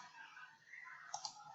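Two quick, faint computer mouse clicks near the end of a short stretch of quiet room tone, crisp and close, with no voices.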